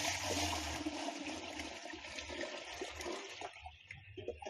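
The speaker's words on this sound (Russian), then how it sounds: "Наливай полное ведро" Tap water running steadily into a bucket, filling it to make a soap and soda solution in a village yard; loud continuous rushing and splashing close by, no talk.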